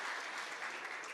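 Audience applauding an MLA at a book launch event in Panvel, a dense steady wash of many hands clapping heard from inside the hall.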